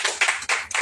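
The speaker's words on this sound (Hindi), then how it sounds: "ताली बजाइए इस बात के लिए।" An audience claps at a Hindi talk, a brief burst of several loud, close hand claps in an uneven rhythm.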